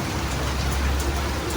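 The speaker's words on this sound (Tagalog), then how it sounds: "Lamig ng ulan." Steady heavy rain pouring down, a dense continuous hiss with no breaks, close and fairly loud, with no voices.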